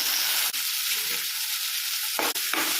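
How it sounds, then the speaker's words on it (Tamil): Onion and tomato frying together in a pan: a dense, bright sizzle fills the clip, broken by a couple of brief scraping stirs near the start and end, with nobody speaking. "வெங்காயம் தக்காளி நல்லா ஒன்று சேர வதங்கணும்"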